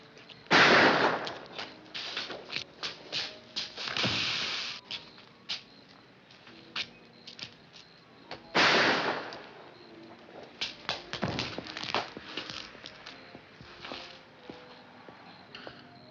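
Gunshots ring out in a 1954 crime drama: two loud blasts a few seconds apart, each followed by a string of sharper cracks and scattered smaller bangs, with no talk over them.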